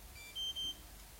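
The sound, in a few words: camera beep signalling recording stopped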